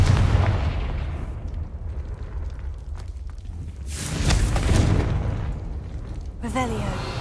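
Booming fire-spell blasts from Confringo in the video game Hogwarts Legacy, heavy explosive thumps rising out of continuous game noise and voices, with a crackling swell midway.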